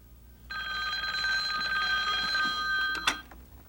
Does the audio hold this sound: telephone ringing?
yes